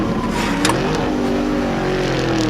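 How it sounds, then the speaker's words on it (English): In a Pixar Cars cartoon, Lightning McQueen races as a race car screaming through the Radiator Springs town: a loud, sustained high engine whine with rising revs, close and continuous, without talk. "the silence was shattered by a race car screaming through town"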